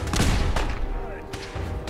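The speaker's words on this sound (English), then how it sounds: "Oh, there's a grenade." Gunfire and a grenade blast in the game Fallout 4, dense loud bursts and booms piling up at the start, then fading into scattered shots, with someone talking over the action.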